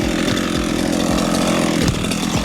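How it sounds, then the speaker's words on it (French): A chainsaw runs loud and steady, its harsh buzzing drone continuous throughout with slight pitch wobbles. "Et après, t'essaies avec la tronçonneuse?"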